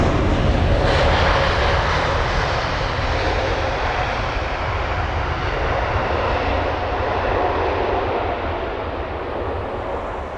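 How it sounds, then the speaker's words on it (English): A Swiss Airbus A320neo arriving from Zurich and touching down at London Heathrow, its engines roaring loudly and steadily throughout, a broad continuous rumble that slowly eases as the jet rolls out. "that's the Swiss A320 Neo with a reg Hotel Bravo Juliet Delta Bravo"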